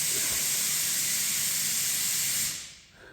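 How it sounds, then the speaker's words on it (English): An air compressor in a garage, set up for a BMW Z3 roadster restoration, gives off a loud, steady hiss of air close by that cuts off abruptly near the end. "That compressor gets me every time."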